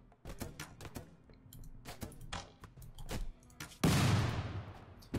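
Colonists firing guns in the colony-building game Rimworld, running a medieval times mod: sharp, irregular shots crack out one after another, then a louder sustained roar of fire sweeps in near the end.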